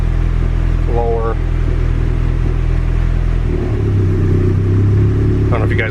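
A turbocharged Honda Civic engine idles in a steady low drone, its pitch shifting partway through as the idle timing is lowered, with a voice speaking briefly over the rumble.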